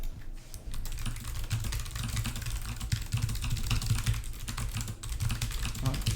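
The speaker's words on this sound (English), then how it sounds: "You're only here for the typing." Rapid, continuous typing on a computer keyboard during a speed typing test, a dense, even clatter of keystrokes heard close and alone.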